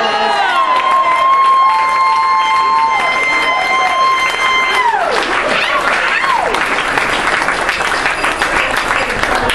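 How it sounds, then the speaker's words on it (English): Wedding guests break into applause and cheers for the bride's parents, the clapping swelling over the last seconds after sustained tonal sounds, with crowd noise mixed in. "So let's give them a round of applause"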